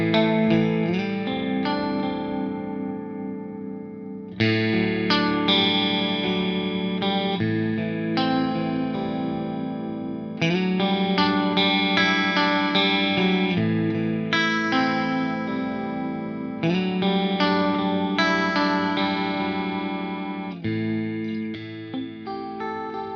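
An electric guitar plays through a Black Country Customs dim chorus pedal, giving a shimmering 1980s-style tone. Clean chords and arpeggios ring out in phrases that each restart with a fresh strum, and no one talks over the playing.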